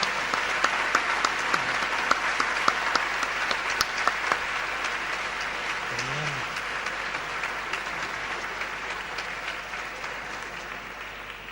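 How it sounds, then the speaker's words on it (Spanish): Sustained audience applause for a teacher at the closing of a congress, many hands clapping steadily for several seconds with occasional sharper individual claps, fading slightly toward the end. "Fuerte el aplauso entonces para el docente."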